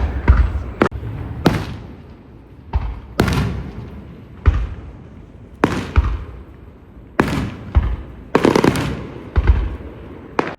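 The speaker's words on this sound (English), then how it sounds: "Is this normal? Fireworks." Fireworks go off at night on a Saturday in a village. Sharp, gunshot-like bangs come in an irregular string, a dozen or so over several seconds, each with a short echoing tail. There are quieter gaps between the bursts.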